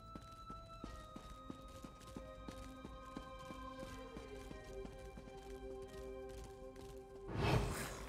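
Hooves clip-clop in a steady, even rhythm as a horse is ridden in Elder Scrolls Online, over soft sustained background music, ending in a brief rushing swell.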